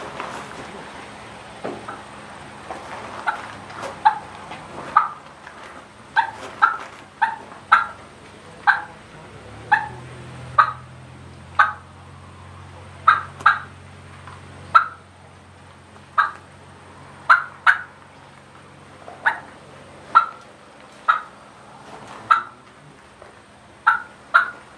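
A contestant's turkey call imitating the plain yelp of a hen at an open-division turkey calling contest: a long steady series of sharp, evenly spaced yelp notes, fairly loud and close, with a low hum and faint background noise.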